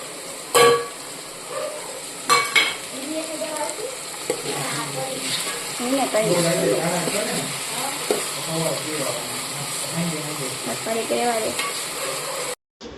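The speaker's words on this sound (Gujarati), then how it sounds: "મસાલાને હવે સરખી રીતે મિક્સ કરી નાખશું." Masala with tomatoes and chillies is stirred in a frying pan, a close sizzle under repeated scraping and clatter of the spoon, with a couple of sharp knocks near the start.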